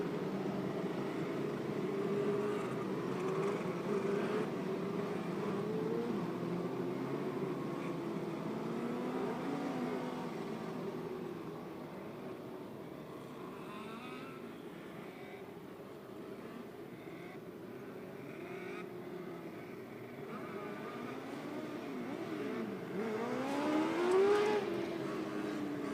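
Race cars at Clyde Martin Memorial Speedway roar around the track in a 600 feature, engines droning continuously with rising and falling pitch as cars pass and rev, loud and busy throughout.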